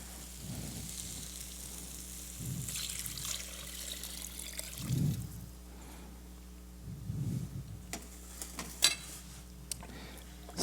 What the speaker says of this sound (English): And then we want to add our stock.